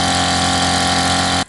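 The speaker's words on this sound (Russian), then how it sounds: "Ну, пилу не можем завести. Вот сейчас вроде завелась." A chainsaw engine runs near Lake Baikal, where firewood is being cut, with a steady, close, buzzing idle and an even drone, before it stops suddenly.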